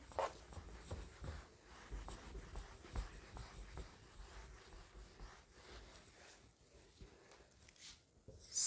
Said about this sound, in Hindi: यहाँ पे हम लिख देंगे